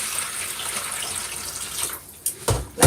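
Food is rinsed by hand under a running kitchen tap, giving a steady splashing stream, then a few sharper knocks and splashes near the end.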